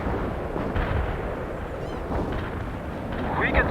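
Cluster bombs and a heavy artillery barrage in the World in Conflict video game, a dense, continuous rumble of distant blasts with sharper pops near the end.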